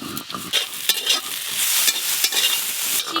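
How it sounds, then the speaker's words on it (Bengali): Shrimp sizzle and crackle steadily in a hot frying pan, loud and close, with intermittent scraping as they are stirred and no talking. "চিংড়ি মাছগুলো ভাজতে খুব বেশি সময় লাগবে না।"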